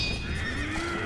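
A horse whinnies in the video game Sekiro, a single drawn-out neigh with a rising, wavering pitch, close and clear with no speech over it.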